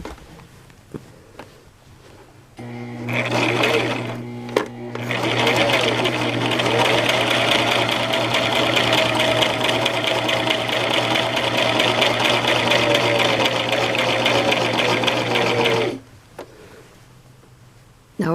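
A Brother LX 3817 sewing machine stitches through thick fabric for a vest placket and dog harness: a loud, rapid mechanical whirring that starts after a few quiet seconds, runs steadily for about thirteen seconds, then stops abruptly.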